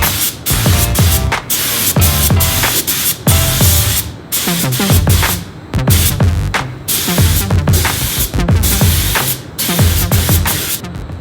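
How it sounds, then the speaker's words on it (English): Spray gun laying clear coat over a hydro-dipped part with a blood-red candy finish: loud hissing bursts of a few seconds each, separated by short pauses as the trigger is released, close to the microphone. "now I'm ready to put the clear coat on"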